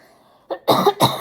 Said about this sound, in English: My smoker cough is still alive and well.